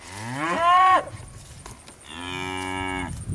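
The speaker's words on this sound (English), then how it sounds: "They is hollering at the heifer mates across the fence" Weaned cattle on a Georgia ranch bellowing toward heifers across a fence, two loud drawn-out moos close by, the first rising and breaking off, the second a long steady call after a short pause.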